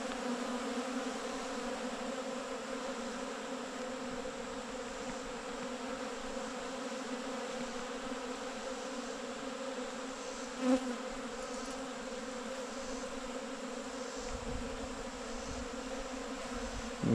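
Honeybees reclaiming cleaned honey supers make a steady, layered buzz of many insects. A faint bump comes midway and another near the end.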